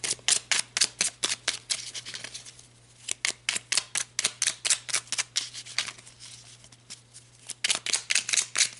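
Tarot cards shuffled repeatedly in quick, crisp riffling bursts with a short pause midway, close and fairly loud, then drawn from the deck; no voices.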